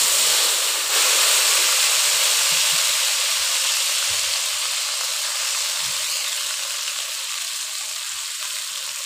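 Panch phoron, bay leaf and a ginger-cumin paste loosened with water hit hot oil, giving a loud, steady, broadband sizzle and hiss that eases slightly over time, with no talking.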